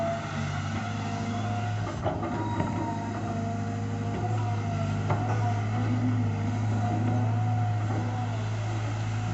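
A CAT 320GC excavator digs and shapes pits on a farm plot in Mukdahan, Thailand, its diesel engine droning steadily and up close, with faint clanks and hydraulic strain rising and falling throughout.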